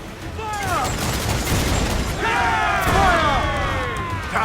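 Ship cannons firing during a naval battle in Assassin's Creed IV: Black Flag, a dense rolling barrage of booms and crashes over sea ambience, with shouting voices layered on top.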